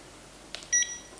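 A short electronic beep from a Praetorian Optima joystick being plugged in, a couple of brief high tones in quick succession, clear against a quiet background.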